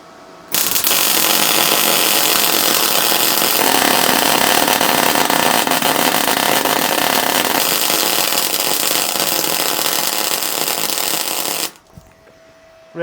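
Steady, harsh crackling buzz of MIG welding with an R-Tech MIG 181 welder at maximum voltage, one continuous bead lasting about eleven seconds, close and loud, cutting off abruptly near the end.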